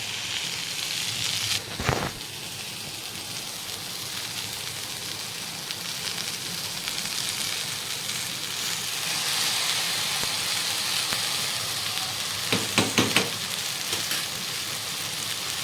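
Boiled rice with a splash of soy sauce sizzles in a pan for fried rice, a constant hiss with a couple of sharp utensil clanks against the pan early on and again near the end.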